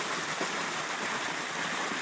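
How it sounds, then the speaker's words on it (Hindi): Waterfall in the Kumishar valley near Ghausia Colony, Azad Kashmir, with a steady, close, broadband rush of falling water that fills the whole stretch at even loudness, no voices present. "ज़बरदस्त वाटरफॉल, बहुत प्यारा नज़ारा"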